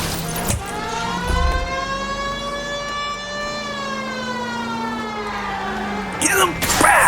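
A police car siren in the video game L.A. Noire wails in long, rising and falling sweeps, loud and close, with engine noise underneath and brief bursts of clatter at the start and end.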